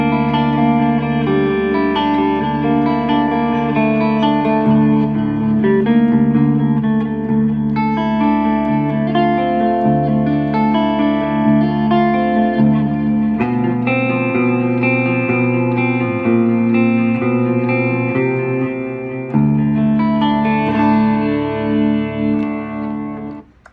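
Clean electric guitar through a Duncan Designed pickup in the neck position, playing sustained chords and melodic lines with effects-unit reverb and chorus, loud and steady throughout with no talking.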